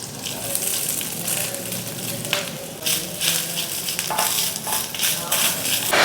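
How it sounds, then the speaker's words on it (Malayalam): Grated coconut fries in hot coconut oil with curry leaves and cumin for a kootu curry, giving a steady, loud hiss and sizzle with occasional spatters and stirring scrapes. No speech is heard. "നമുക്ക് തേങ്ങ വറുക്കാൻ വേണ്ടി വെളിച്ചെണ്ണ ചൂടായി വരണം"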